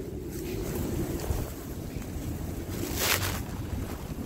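Violent wind on Remembrance Day buffets the microphone in a steady low roar, with gusts swelling and a brief sharp burst near the end, heard alone without speech.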